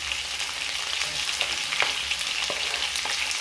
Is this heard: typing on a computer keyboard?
no